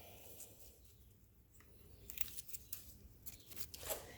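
Scissors snipping stems of a mint plant during an herb harvest, a handful of quiet crisp cuts and rustles clustered toward the end, faint against soft background noise.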